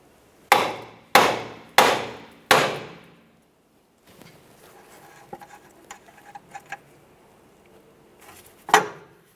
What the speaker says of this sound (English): if you just tap on this area with a hammer, the vibration will break it free